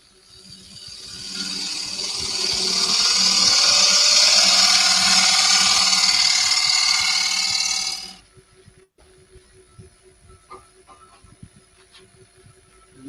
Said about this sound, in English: I'm just using my small 1/4-inch ball gouge just to clear out